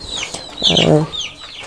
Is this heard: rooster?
yes